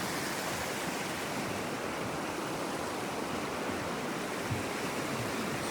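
Flooded Avon River surging under a bridge and over its banks, a steady, dense rushing roar that holds without a break, close and fairly loud, with no voices.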